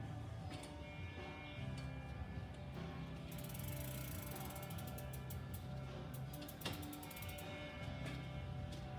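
A bicycle chain, newly installed with a master link, clicks over the gears as the crank is turned by hand, giving a steady close ratcheting tick that lasts throughout with no talk.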